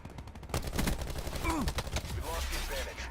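Bursts of rapid gunfire in the Call of Duty Black Ops 4 beta start sharply after a brief quiet moment, loud repeated shots continuing throughout, with a voice talking over parts of it.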